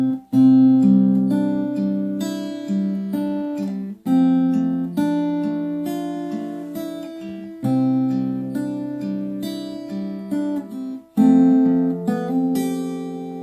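Fingerstyle acoustic guitar picks out the verse of a song, with steady ringing chord arpeggios and brief pauses between phrases, played close and clear with no voice.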